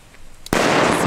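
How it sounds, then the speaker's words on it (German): A large Celebration Cracker firework from Zina Feuerwerk goes off on New Year's Eve: a quiet, muffled lead-in, then a sudden loud blast halfway through that turns into a dense, sustained crackling roar to the end. "Und dann zum Schluss natürlich eine riesen Celebration Cracker."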